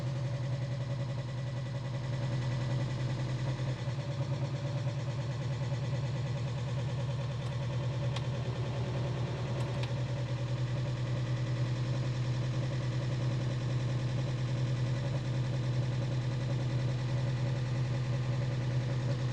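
A car engine idles steadily and evenly, with a slightly loud exhaust giving a constant low drone throughout, and a couple of faint clicks partway through.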